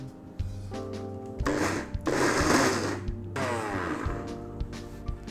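A kitchen mixer grinder whirs as it grinds pistachios, its motor running in several loud bursts with brief pauses between them.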